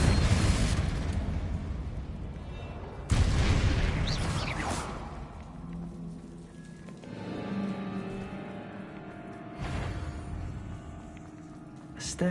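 Confringo fire spells exploding in Hogwarts Legacy, loud booming blasts with rumbling, whooshing tails that repeat across the clip, close and forceful, with no talking.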